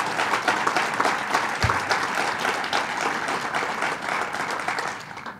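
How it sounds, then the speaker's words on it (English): An indoor press conference audience at Madison Square Garden applauds the legislators at a bill signing, a dense sustained clapping from a sizeable crowd with one sharp thump early on, gradually tapering toward the end. "let's give a round of applause to all the legislators who are here"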